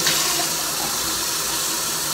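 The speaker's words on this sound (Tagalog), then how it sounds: "Tapos lalagyan ko siya ng konting tubig." Water is poured from a tap into a mixing cup holding apple, making a steady, close, continuous rushing splash that runs unbroken from start to finish.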